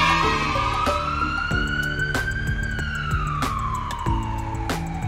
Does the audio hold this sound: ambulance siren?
yes